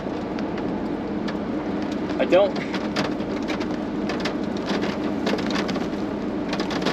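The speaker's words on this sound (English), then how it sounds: "Alright, well we're starting to get rain." Rain beginning to fall during a supercell storm near Last Chance, Colorado, a steady broadband hiss throughout with a brief chirp-like sound midway and a single spoken word.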